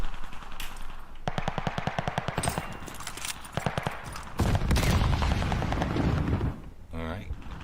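Rapid machine-gun bursts from a video-game war zone rattle loud and close, some bursts sustained and some short, with heavy rumbling blasts mixed in and a voice talking over parts of it.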